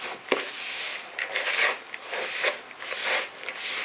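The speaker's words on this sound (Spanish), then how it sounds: "después de que mezclemos, hacemos una buena mezcla" Soft, irregular squishing and rubbing as knödel dough is mixed with potato by hand, close and quiet with short bursts of friction.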